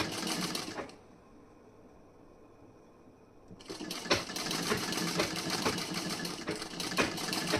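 A sewing machine runs a basting stitch on a wedding blouse front, whirring steadily at close range, pausing briefly for a few seconds, then resuming its rapid rattling run.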